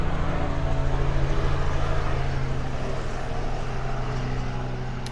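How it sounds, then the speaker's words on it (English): Helicopter flying ahead outdoors, a steady loud rotor and engine drone holding fairly constant throughout with a slight fade, no talking. "Helicopter up ahead."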